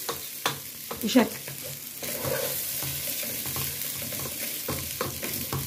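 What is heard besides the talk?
vermicelli frying and being stirred in a pan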